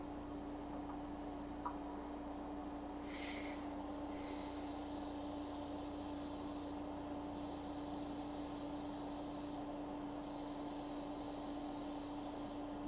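An airbrush sprays base coat onto a miniature, its hiss coming in three long steady bursts with short pauses between, over a constant low hum from the compressor.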